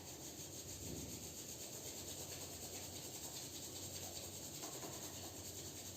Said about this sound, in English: Rub palms together.